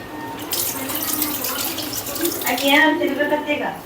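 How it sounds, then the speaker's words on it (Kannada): Tap water runs steadily into a kitchen sink as vegetables, coriander and curry leaves are rinsed by hand, with a soft continuous splash and brief shifts as the produce moves under the stream. "ವೆಜಿಟೇಬಲ್ಸ್ ಎಲ್ಲ ವಾಶ್ ಮಾಡ್ಕೊಂಡು ಯೂಸ್ ಮಾಡಬೇಕು"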